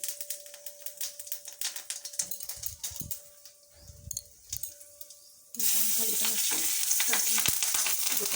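Cumin seeds crackle and sputter in hot oil, quiet at first with clicks and a faint tone, then a sudden loud, steady sizzle takes over for the last few seconds.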